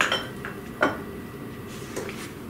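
A utensil mixes hot cocoa cookie dough in a bowl, making a few sharp clinks and scrapes against the bowl spread over a couple of seconds, with a soft background hiss between them.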